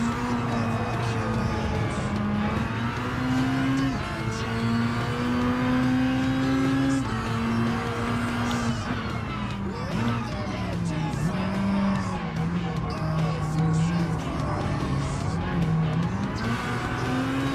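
Race cars in Gran Turismo Sport, including an Aston Martin, with a droning engine note that climbs and drops through gear changes, steady and close, with tire noise and other cars mixed in.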